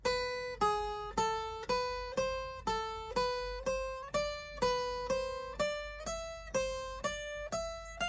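A beginner guitar lead exercise picked slowly on guitar, single clear notes plucked about every half second, each ringing and decaying before the next, stepping up and down a short scale pattern, with no talking.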